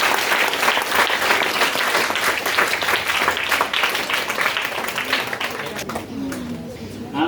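A Hindi book launch audience claps loudly in a dense, sustained burst that thins and fades near the end as a voice begins to come in.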